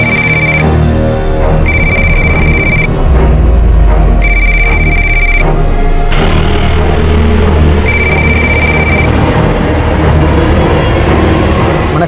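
A telephone rings in loud bursts, several rings separated by short pauses, over a heavy low rumbling background, close and clear.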